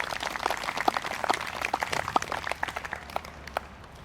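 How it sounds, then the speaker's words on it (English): An outdoor concert audience at a town band performance gives a short burst of scattered clapping, fairly faint and thinning out toward the end. "How about a nice round of applause for all those people?"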